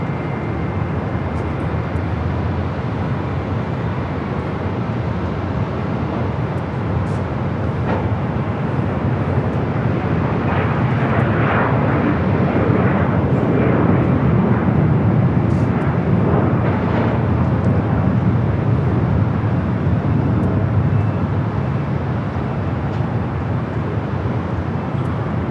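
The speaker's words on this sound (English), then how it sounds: "That Delta flight coming from Minneapolis, 737-900 ER." A Delta Boeing 737-900ER airliner arriving from Minneapolis at Los Angeles airport rumbles steadily for the whole stretch, a broad loud engine roar that swells slightly toward the middle, with no voices.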